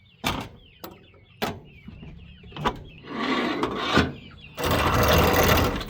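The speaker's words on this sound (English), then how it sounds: "Huh, Pants, I'll open your door." A wooden chicken coop door is opened on a homestead barn in the morning, with sharp knocks and scraping rasps of wood, then a louder sustained rubbing as the door swings; faint chicken chirps sound in between.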